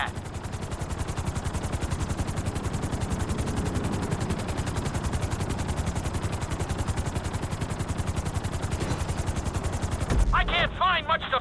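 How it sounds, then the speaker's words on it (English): A helicopter in the GTA 5 flight school game drones with a steady, rapid rotor chop throughout, loud and continuous, with a sharper mechanical change near the end. "Bring the helicopter down gently onto the helipad."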